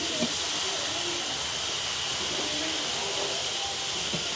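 Steady, loud steam hiss pours from a bamboo kuzhal puttu steaming pot on a village stove, continuous and unbroken throughout.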